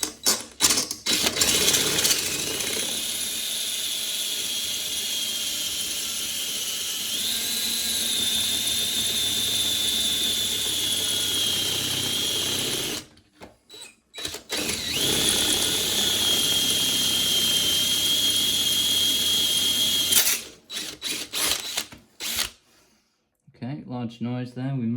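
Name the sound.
drill boring through lock cylinder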